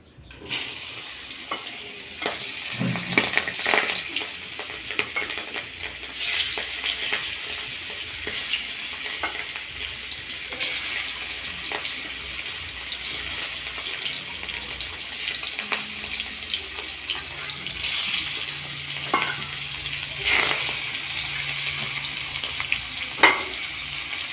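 Megrim fish fry and are stirred in oil in a wok, a steady sizzle with scraping utensil clicks and occasional water-like splashes, close and continuous, no talking.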